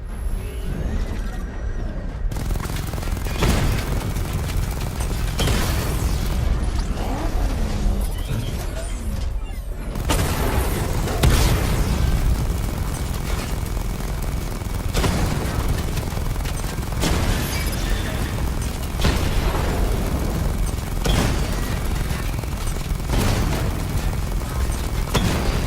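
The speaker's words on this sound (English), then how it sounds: "Charge the missile barrage to level 2 to destroy up to 4 targets at once." Missile barrage explosions in Batman Arkham Knight land as repeated heavy booms and crashing bursts over a dense mechanical rumble, sustained and loud throughout.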